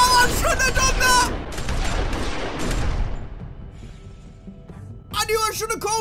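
Gunfire in The Walking Dead Season 2 video game: a burst of loud shots and booms at the start, followed by a fading rumble. A voice shouts over it.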